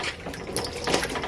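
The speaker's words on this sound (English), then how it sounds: "I'm just washing the coconut." Tap water runs steadily over a coconut being washed in a kitchen sink, a continuous close splashing rush with small shifting surges.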